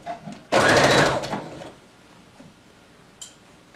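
A sewing machine stitches a 1/2 inch seam over gathered fabric at a 2.5 stitch length. It runs loud and close in one steady burst of about a second, then falls quiet apart from a faint click.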